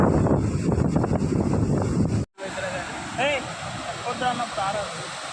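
Water rushes fast down a waterfall in a village, a loud steady roar buffeted by wind. It cuts out abruptly and resumes quieter as a person speaks over it.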